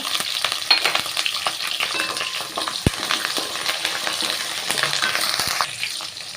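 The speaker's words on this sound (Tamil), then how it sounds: "வெங்காயம் பூண்டு எல்லாம் சேர்த்த உடனே ஒரு மூணு பச்சை மிளகா கொஞ்சமாக கருவேப்பிலையும் சேர்த்துக்கிறேங்க" Small onions, garlic, green chilies and curry leaves sizzle in hot oil, crackling and popping steadily at close range with occasional stirring clinks, no voices.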